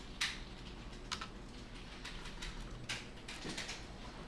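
A few sparse keystrokes on a computer keyboard while entering a Linux bash command in a terminal, soft close clicks spaced out over a quiet background, with no talking.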